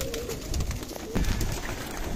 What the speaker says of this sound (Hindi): मैं आज शो कराऊंगा उन कबूतरों का जो मैंने खुद यहाँ पर बनाए